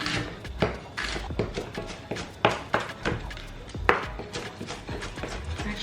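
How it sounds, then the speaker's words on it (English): A knife chops a cleaned onion into small pieces on a board for fish pepper soup, a steady run of sharp, close taps repeating quickly for several seconds with a few louder strikes. "I'm just gonna chop it up into small little pieces in preparation for the soup"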